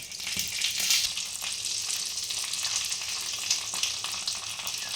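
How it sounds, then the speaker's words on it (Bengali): Dried red chillies and whole spices sizzle in hot oil, a steady crackling fry with small pops and light stirring heard close up and fairly quiet, with no one speaking. "শুকনো লঙ্কাগুলো, ফোড়নগুলো লাল ভাব, তেলটাতে যেন হয় লাল লাল ভাব"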